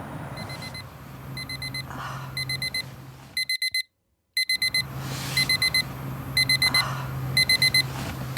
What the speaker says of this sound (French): pourquoi t'as mis le réveil?